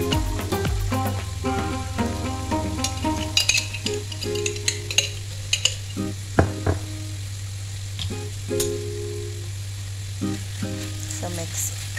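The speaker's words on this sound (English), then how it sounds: "So mix it well para mag-combine yung tomato paste at saka yung ating mga vegetables." Chicken stew with tomato paste and vegetables sizzles in a pan while being stirred, with a steady frying hiss, intermittent scraping and clinks of a utensil against the pot, no talking.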